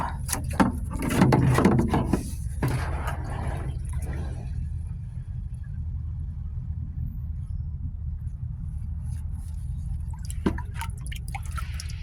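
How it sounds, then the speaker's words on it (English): Squash plants in a home garden being watered from a watering can: a brief splashing pour of water near the start, then quieter dripping and trickling over a faint outdoor background. "I'm just taking my watering can over here"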